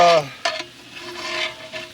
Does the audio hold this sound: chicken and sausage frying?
yes